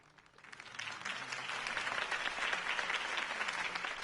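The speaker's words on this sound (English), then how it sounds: "could have heard that applause" Applause from a crowd in Batman The Telltale Series game, swelling after a quiet start into steady, dense clapping that holds loud and continuous to the end, with no voices over it.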